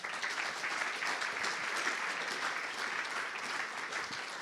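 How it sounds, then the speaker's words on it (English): Audience at a summit session applauding, a steady, fairly faint wash of many hands clapping without a break. "Round of applause."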